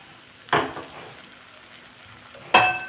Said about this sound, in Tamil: மூளையெல்லாம் உடையாமல் மெதுவாக இப்படி பெரட்டி கொடுக்கணும்